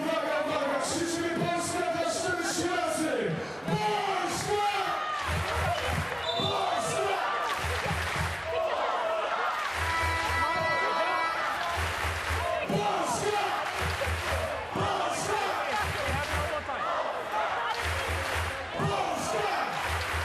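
A crowd cheering and shouting throughout a women's 3x3 basketball game between Greece and Poland at the FIBA 3x3 U23 World Cup, loud and continuous, with rhythmic stomping or clapping, ball bounces and a commentator's voice over it.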